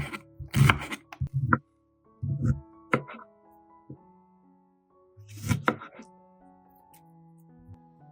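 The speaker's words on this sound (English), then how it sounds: "I've finished chopping the onions" A knife chops onions on a cutting board in a kitchen in scattered bursts of sharp thunks and cracks, a few quick strikes at a time with quiet pauses between, close and fairly crisp.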